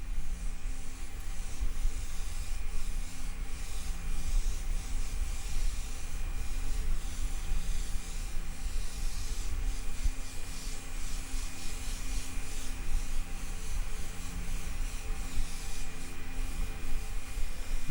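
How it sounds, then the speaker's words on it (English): Steady airbrush hiss spraying Transparent Root Beer paint onto a car body, held well back and moving quickly, continuous and even for the whole stretch with no talking. "I'm keeping the airbrush well back, working quite fast and just getting a nice overall dusted look."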